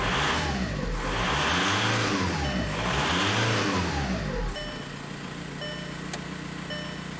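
A VW Beetle with a 1.9L engine runs steadily near the listener, its low rumble rising and falling in two slow revving swells before settling into an even idle with a faint high whine.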